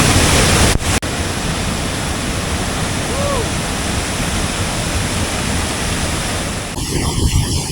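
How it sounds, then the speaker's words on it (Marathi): A powerful waterfall roars in a monsoon forest, its heavy, continuous rush of water filling the sound close-up, with a brief voice in the middle of the roar. "बऱ्याच दिवसानंतर असं वॉटरफॉल जवळून बघतोय. खतरनाक आहे, भरपूर जबरदस्त पाणी आहे"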